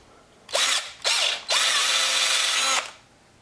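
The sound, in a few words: drilling into plastic figure head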